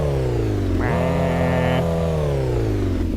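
A car engine revs up sharply to redline, holds a high, loud whine for about a second, then eases back down to a steady rumbling idle.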